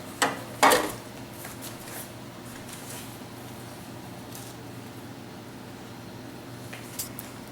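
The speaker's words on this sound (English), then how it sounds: "To get this out of the pan after it cools on the rack, just tap it on the bench." A baking pan holding a loaf of beer bread is knocked against a bench twice in quick succession, two sharp close thuds near the start, followed by quiet room tone and one faint tap near the end.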